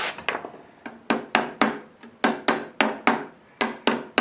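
A hammer taps the clamps inward on a rodded-out radiator from a 1988 Jeep XJ, giving about a dozen sharp metallic knocks in a steady rhythm, loud and close with ringing decays and no talk.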